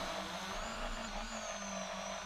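A drone flying in the video game Warzone, a steady whirring motor hum with a high whine, continuous and fairly loud throughout the brief moment.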